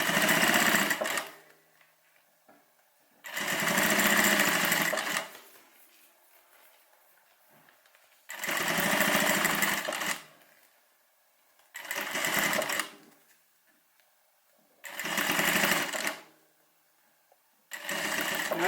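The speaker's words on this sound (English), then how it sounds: "I'm going to leave my needle down, stitch across, and then I'm going to go back the other way" A sewing machine stitches along a long bag strap, running in five distinct bursts of a few seconds each with short pauses between them, loud and close with no talking.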